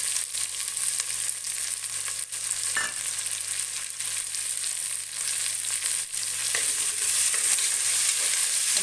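Field beans (avarekalu) fry in hot oil with tempering in a pan while being stirred, giving a steady sizzle with occasional scraping sounds and no talking.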